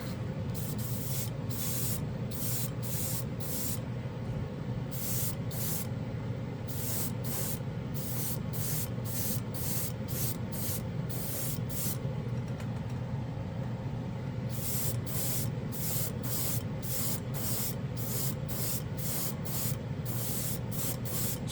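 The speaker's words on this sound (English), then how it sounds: "next up we have Gunmetal. Same airbrush, the Extreme Patriot." Extreme Patriot airbrush spraying SMS Gunmetal metallic paint in a long series of short, evenly spaced hissing bursts, a steady low hum from the compressor or room running underneath throughout.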